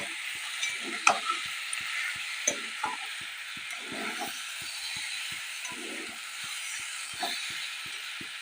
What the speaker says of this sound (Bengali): চিনি জল ঢেলে দেবো।